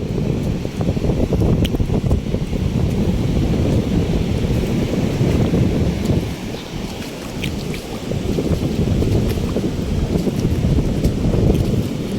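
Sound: rough surging sea waves at night

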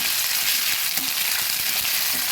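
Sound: onion frying in oil with ginger paste added

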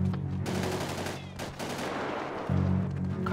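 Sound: gunfire in the video game GTA 5

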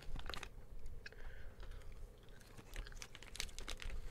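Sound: chewing sour Skittles candy

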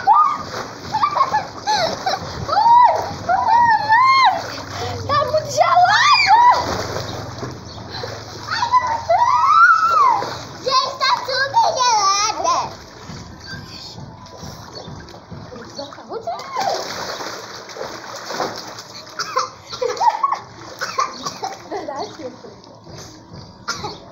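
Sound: diving into a pool, water splashing

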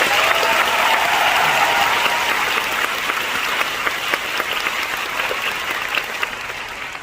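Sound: audience applause at musical curtain call

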